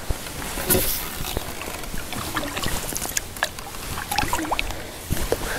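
Canoe paddling on water during a morning trip, with soft repeated splashes and drips close by, uneven strokes falling into a loose rhythm.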